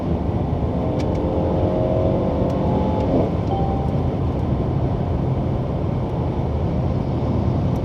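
A 2017 Mercedes-Benz C-Class Coupe downshifts in manual mode from fourth to third gear. The engine drones steadily in the cabin, and the pitch shifts briefly partway through. No one speaks.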